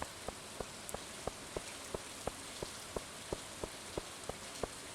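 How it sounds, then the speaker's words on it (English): Pouring rain in the farming video game Stardew Valley patters steadily and faintly, with a regular string of distinct droplet ticks over a soft hiss. "Especially since it's pouring rain"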